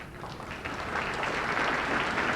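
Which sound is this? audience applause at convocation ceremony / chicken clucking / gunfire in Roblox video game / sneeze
audience applause at convocation ceremony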